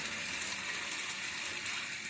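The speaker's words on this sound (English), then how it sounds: "And the toilet is filling as we speak." A newly installed toilet tank refills with water, a steady, soft rushing hiss that runs unbroken and fairly quiet throughout, with no talking.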